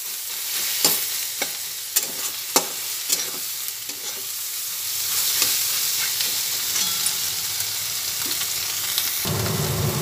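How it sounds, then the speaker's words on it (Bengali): Chopped tomatoes and egg frying together in a pan for homemade egg chow mein, a steady close sizzle with sharp scraping stir clicks early on, no voices. "টমেটো দুটো কুচিয়ে দিলাম। একসঙ্গে সব দিয়ে ভেজে নিচ্ছি।"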